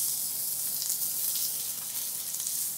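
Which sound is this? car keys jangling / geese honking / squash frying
squash frying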